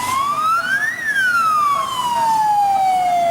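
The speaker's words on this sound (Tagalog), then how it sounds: "Sa pagpapatunog naman ng wangwang, idinaan ang hudyat ang pagsisimula ng Fire Prevention Month sa Balangan, Bataan." A fire truck siren wails loud and close to mark the start of Fire Prevention Month in Balanga, Bataan, its tone climbing and then slowly sweeping down.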